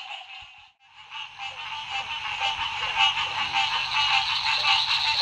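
Bullfrogs croak from the water at night in a dense, continuous chorus of buzzing, pulsing calls that swells steadily louder after a brief dip near the start.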